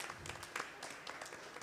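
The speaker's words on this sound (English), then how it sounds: "I think we need to give Pandit Ji a very warm round of applause this morning." Audience applause for Pandit Ji at a Krishna Mandir Sunday morning service: a soft, steady wash of many hands clapping, faint and distant, with a few sharper bursts.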